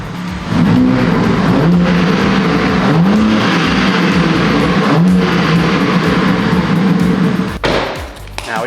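A BMW M4 Competition accelerates hard through a full pull, its engine note climbing loud and close, then dropping briefly at each gear change before rising again, with no talking.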